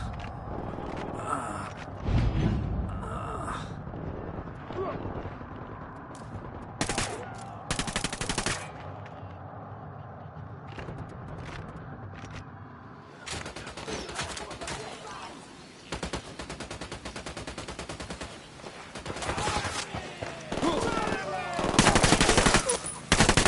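Bursts of automatic rifle fire and single shots in Ghost Recon Wildlands, loud clustered volleys separated by quieter gaps, with scattered game voices and ambient noise between.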